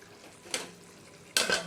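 A lid goes onto a pan of bata fish curry, with a soft scrape followed by a louder metallic clank as it settles, two brief close sounds in a quiet kitchen.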